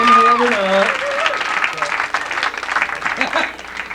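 Comedy club audience at the DC Improv breaks into applause during a stand-up set, a dense burst of clapping that stays steady for several seconds, with a comedian's voice talking over it near the start.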